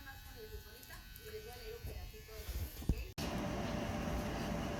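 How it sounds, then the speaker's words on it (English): A constant mechanical whir of a hood hair dryer runs close by, first under faint talking, then a louder, steadier drone after a sharp cut. "I'm getting my hair dried right now. Sitting here under the dryer."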